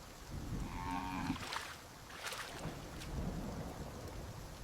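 A buffalo lows during a thunderstorm on a farm, its moo rising early in the clip amid heavy rain and rolling thunder that fill the background.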